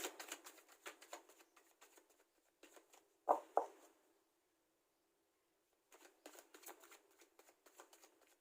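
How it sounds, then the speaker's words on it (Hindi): Tarot cards riffle and flutter close up in rapid papery bursts, broken by a pause and a couple of louder taps before the shuffling resumes, fairly quiet and with no voices. "चलिए मैं एक बार कार्ड को शफल कर लेती हूँ"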